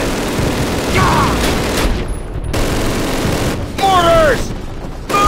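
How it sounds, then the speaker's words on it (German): Mortar blasts and heavy gunfire in Call of Duty: Classic on Xbox 360, loud booming bursts with rattling fire and whistling shells, while shouting voices cut through the battle. "Mortars! Move it!"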